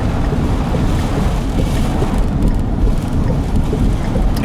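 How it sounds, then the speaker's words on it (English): Steady wind roars through a night windstorm, a constant low rushing blow with no letup over a few seconds, heard up close with no talking. "That's just wind blowing."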